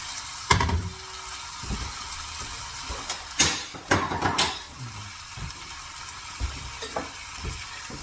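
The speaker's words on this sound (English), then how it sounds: "Our meat and onions go back in." Meat and onions go back into a pan for a steak and stout pie, with a soft frying sizzle broken by a few louder scrapes and clatters from the food and utensils, and no talking is heard.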